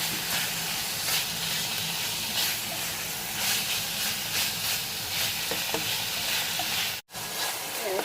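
Pork fat sizzling in a pan as it renders into oil, a constant crackling hiss with scattered pops and occasional stirring, steady and close, broken by one brief cutout near the end.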